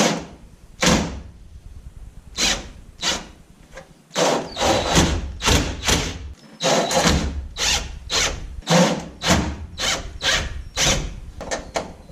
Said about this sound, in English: So I got an impact here. We'll at least get them started with this.